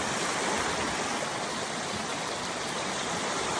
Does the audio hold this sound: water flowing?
yes